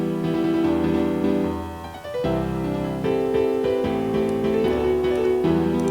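A synth melody pattern plays back in FL Studio-style music production software for a color bass track: sustained, harmonically rich synth notes in a steady repeating sequence, loud and continuous, with a brief dip near the middle.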